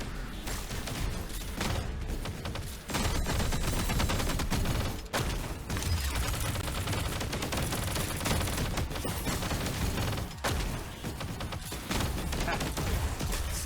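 Dense, sustained gunfire and impacts from the action video game Punishing Gray Raven, loud and continuous with brief dips, crashes and mechanical clatter mixed into the barrage.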